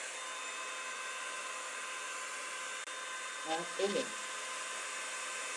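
A hair dryer blows a steady, moderately loud whir while a brush works through hair, and a short spoken phrase cuts in near the end.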